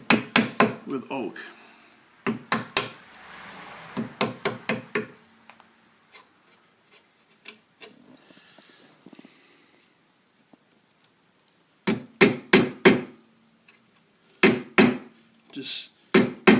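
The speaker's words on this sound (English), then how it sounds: "Just chop down your baseline." A carving tool chops into oak while a Windsor chair is being carved: bursts of sharp, close woody knocks in quick clusters, separated by quiet stretches with faint movement and occasional low talk.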